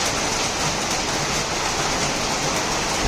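Steady rain falls close by, a dense, even hiss of drops pattering on surfaces with no pauses or other sounds.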